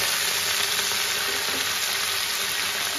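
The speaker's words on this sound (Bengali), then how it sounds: "আদাটা বেশিরভাগটাই আমি এখানে ভেজে দিচ্ছি" Ginger, spinach and green peas fry in a hot kadai with a steady, close, even sizzle that holds without break and without any voices.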